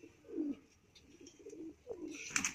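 Pigeons cooing close by: soft low throaty coos rising and falling in a few short phrases, with a brief brighter chirp near the end.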